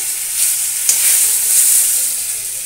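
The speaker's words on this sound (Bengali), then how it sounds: "এই যে মাছগুলো আমার ভাজা হয়ে গেছে" Fish sizzles steadily in a hot pan of oil, a continuous bright crackling hiss with a brief sharper pop near the start, close and fairly loud with no talking.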